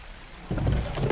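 Rain in the ARK: Survival Ascended video game, starting abruptly after a quiet moment as a dense, steady patter with a low rumbling undertone, fairly loud and without speech.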